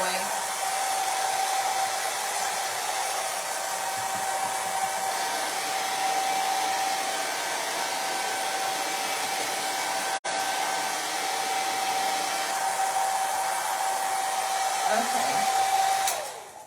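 A hair dryer runs steadily to dry glue on a rope pumpkin craft, a constant close whooshing hum with a faint tonal whine, ending abruptly as it switches off.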